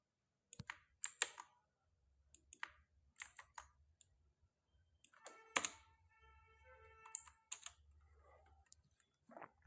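Quiet bursts of key presses on a computer keyboard, typing code in uneven clusters of rapid clicks separated by short pauses, close and soft against a low background hum.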